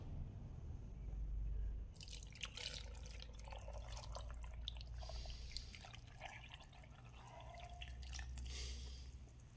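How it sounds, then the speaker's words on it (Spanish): Milk poured from a gallon jug, a quiet liquid gurgle and trickle with dripping, heard close for several seconds over a low background hum. "Le vamos a agregar un poco de leche de la del garrafón"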